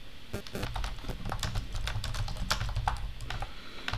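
Rapid, irregular clicking of fingers typing on a computer keyboard while entering a question into an online form, steady and close with no voices.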